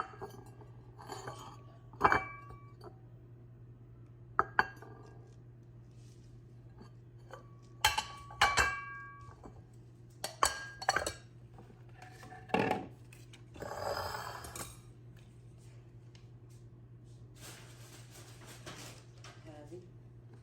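Plates and bowls clinking and knocking together as they are handled, a set of six dishes and six bowls; sparse, irregular close clinks and taps separated by quiet gaps, with faint rustling in between.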